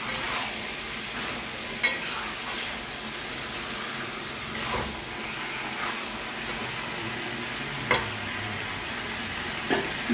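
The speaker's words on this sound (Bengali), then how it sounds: "মাঝে মাঝে এইভাবে ঢাকনা খুলে নেড়ে নেব মাংসটা।" Chicken frying in a pot for biryani while it is stirred, a continuous close sizzle with occasional scraping and lid clanks, with no voices.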